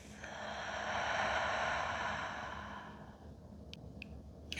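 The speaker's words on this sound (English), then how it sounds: "And then a cleansing breath out of your mouth." A deep, slow cleansing breath exhaled through the mouth during a guided grief meditation, a long airy sigh that swells and fades, followed by a few faint clicks.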